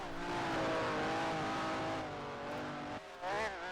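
A Ferrari race car in a sim racing game roars close behind, its engine droning steadily at high revs with a shifting pitch near the end, loud and without voices.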